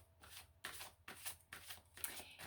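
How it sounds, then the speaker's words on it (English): Cards are riffled and shuffled in several quick bursts, about one every half second, close by and fairly quiet, with no talking. "We'll do one more shuffle through and then I'll do the cut"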